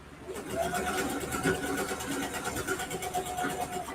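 A home sewing machine back stitching while sewing a quilted ruffle backpack, its motor giving a steady close whir with a rapid needle rhythm that runs continuously throughout.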